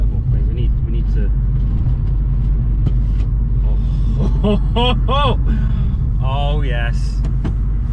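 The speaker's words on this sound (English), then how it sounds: "Can hear a little bit of road noise, which is normal because it's a convertible" Steady low road rumble fills the cabin of a moving convertible car, continuous throughout, with people talking over it.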